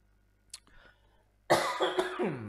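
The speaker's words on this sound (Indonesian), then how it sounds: "Saya batuk, sorry." A short throat sound, then after a pause a harsh, loud cough burst close to the microphone, rough and raspy.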